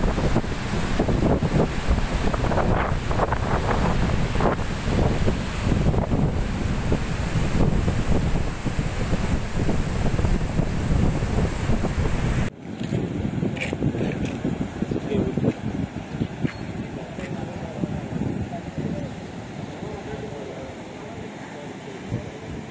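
Water released downstream through forty reservoir gates raised two metres at Peddapalli after Cyclone Gulab, a loud steady rushing roar that cuts abruptly midway to a quieter, thinner rush with faint voices.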